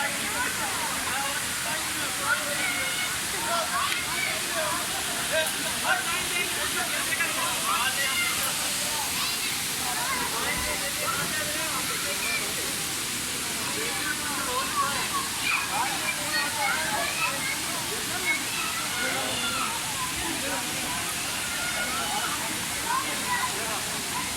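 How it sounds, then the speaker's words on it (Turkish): Rushing water from the Sabun Çayı waterfall at Düziçi, Osmaniye, a steady dense roar filling the whole stretch at close range, with people talking faintly over it. "Şelaleye indiğimiz yer burası."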